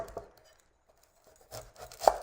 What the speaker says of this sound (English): First, keep it whole, cut the ends